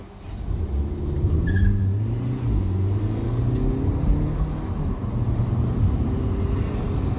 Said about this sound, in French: j'ai pas fait l'accès de fou, mais en tout cas les pneus ont crissé